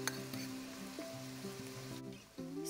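Onions frying in a pan for carrot rice, with turmeric added, give off a steady soft sizzle while salt goes in. Sustained melodic background tones play over the quiet hiss, and a brief dip comes near the end.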